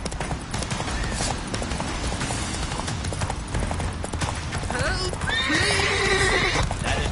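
Roach, the horse in The Witcher 3, gallops with rapid, steady hoofbeats and then neighs loudly near the end, over game music and battle noise. Brief speech is heard in the mix.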